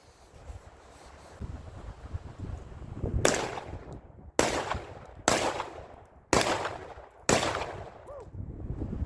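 A Panzer EG200 shotgun firing Federal double aught buckshot lets off five loud, sharp blasts at roughly one-second intervals, each trailing a brief echo, over steady wind noise.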